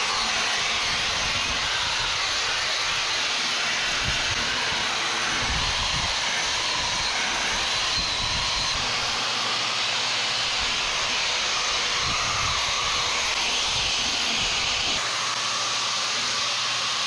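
An aerosol can of Rust-Oleum rust reformer sprays in a long, continuous, close hiss over a '66 Chevy dually frame, with faint low rumbles underneath and no speech.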